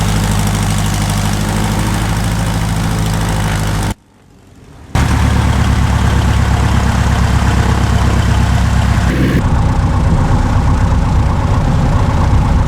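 A Piper light aircraft engine drones steadily at low power while taxiing in a flight simulator game, a loud continuous hum that drops out briefly once before resuming.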